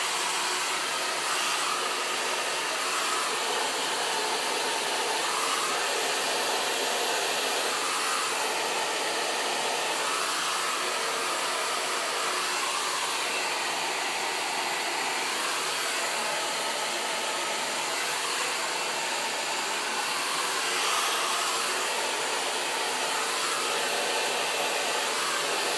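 A hair dryer blows on soaking wet curly hair, a loud, unbroken airy roar that holds steady throughout with no talking.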